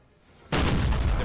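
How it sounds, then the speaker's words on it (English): Artillery fire in Napoleon Total War at the Battle of Berlin, a sudden loud cannon blast that breaks into a sustained roaring rumble after a quiet lead-in. "And the cannon shot is even bouncing all the way."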